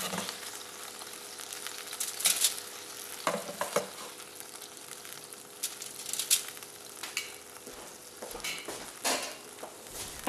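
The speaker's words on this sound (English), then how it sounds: "Cook the meat for another 3 minutes or so, and then remove it from the grill pan." Meat sizzles in a grill pan with a constant crackling hiss, close by, while repeated scraping and clinking strokes of a utensil stir and turn it; no voices.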